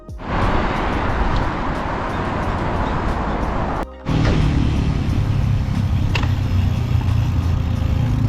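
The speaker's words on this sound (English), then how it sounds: "navigating the Pretoria traffic here" A car making its way through Pretoria traffic, with a steady close engine drone and road rumble from inside the vehicle, briefly cut by a short dip before continuing loud and unbroken.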